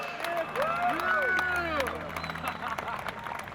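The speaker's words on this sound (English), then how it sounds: "Round of applause." A crowd at a D1NZ drift event at Wellington Speedway claps and cheers in a broad burst, with an announcer talking over the applause.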